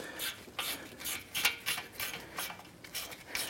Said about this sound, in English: Using our 12 millimeter deep socket and ratchet, let's go ahead and loosen and remove these bolts.